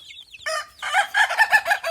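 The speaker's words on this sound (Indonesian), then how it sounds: "ini hasil cetakan sendiri anakan ayam ketawa" High, chirpy peeping calls from several young Ayam Ketawa chicks, repeated in quick bursts, close by and with no talking.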